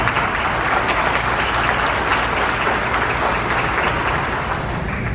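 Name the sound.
audience applause for youth orchestra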